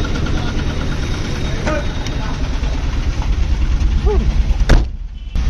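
A Mahindra Jeeto diesel engine idles nearby with a steady low rumble throughout, while people talk over it and a short clank sounds near the end.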